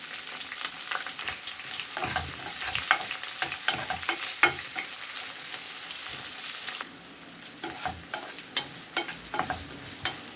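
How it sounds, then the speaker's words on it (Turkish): Ring-sliced peppers sizzle in hot oil and butter with a steady crackling hiss, punctuated by scraping stirs, briefly quieting partway through before the stirring resumes. "Halka şeklinde doğradığım biberlerimi ekliyorum."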